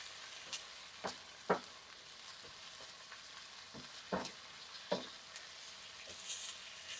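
Texas hash sizzles and fries in a single skillet, a steady low crackle broken by occasional sharper pops and stirring scrapes, close and alone without talk.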